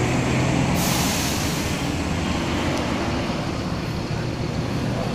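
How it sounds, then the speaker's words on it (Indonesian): A Budiman bus pulls in on the road at Limbangan, Garut, with a hiss of air brakes and a loud engine rumble amid steady nearby traffic noise. "Ini kayaknya bis yang jam 5 nih."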